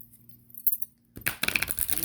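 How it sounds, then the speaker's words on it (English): Quiet room, then a quick burst of riffling, papery shuffling of a tarot or oracle card deck that continues briskly to the end. "So I'm going to shuffle"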